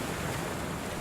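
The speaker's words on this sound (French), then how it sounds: "là le vent monte très très fort" Strong wind and breaking waves at sea aboard a solo round-the-world racing sailboat, a brief dense roar of spray and gusts.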